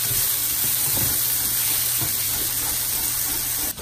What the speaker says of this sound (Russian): Лучок жарим.